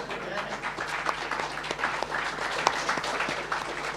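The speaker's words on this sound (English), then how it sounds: "That was a really weird applause." Scattered, somewhat thin applause from a convention panel audience, moderately distant and uneven, with a few sharper claps standing out over a soft room murmur.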